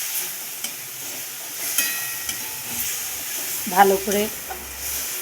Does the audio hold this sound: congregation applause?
no